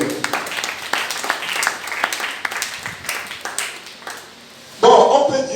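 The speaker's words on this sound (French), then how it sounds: "Acclamez-vous vous-même." Audience applause fills a church conference hall, a broad steady clatter of clapping that runs throughout, with a brief dip before a sharper, louder burst near the end.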